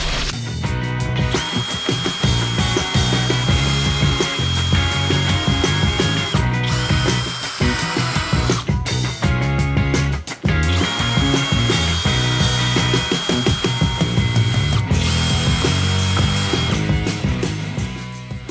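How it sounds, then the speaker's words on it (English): An electric drill whirs loudly and continuously while drilling pilot holes in wood for a floating shelf, bursts of drilling separated by brief pauses as the motor revs down and starts again. "Then it was time to drill, using a slightly too small drill bit."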